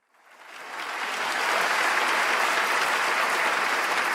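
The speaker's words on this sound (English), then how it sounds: "audience, chill out with the claps" Studio audience applause swells up from silence over the first second and a half, then holds as a steady, dense wash of clapping with no voices over it.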